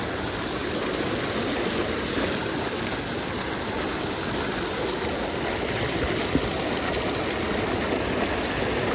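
Floodwater rushes steadily through a creek, a dense, continuous broadband roar of flowing water with no breaks, close and fairly loud throughout.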